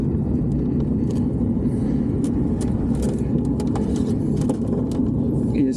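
Cars driving along a road in cold weather, a continuous close rumble of tyres and engines with faint birds chirping above it.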